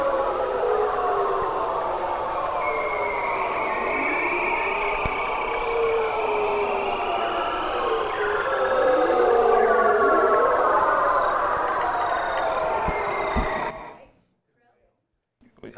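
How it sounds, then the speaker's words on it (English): Seal mating call: long eerie descending whistles and warbling trills sweeping downward in pitch, loud and continuous, like an underwater recording, ending abruptly in silence. "It is, yes, seals. It's one of these guys, right? That was this guy's mating call."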